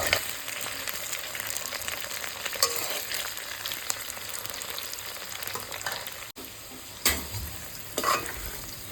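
Potatoes fry in oil in a wok (kerahi) for a village-style Assamese mutton curry, a loud, steady sizzle close by with intermittent stirring scrapes and no talk.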